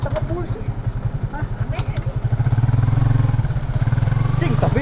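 A motorcycle with a wireless handlebar setup idles nearby, a steady low rumbling pulse that swells slightly louder toward the end, with people talking over it.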